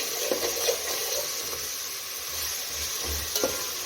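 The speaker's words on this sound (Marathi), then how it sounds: "आल्या लसूणची पेस्ट टाकायची आहे फिरवून घेऊ" Ginger-garlic paste sizzles steadily in a hot pan with onion and green chillies, broken by a few scraping stir strokes across the pan, close and fairly quiet with no talking.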